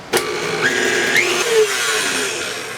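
An electric mixer steadily whirs through pound cake batter as an egg is beaten in, a loud, continuous motorized drone with a few brief clicks and pitch shifts along the way.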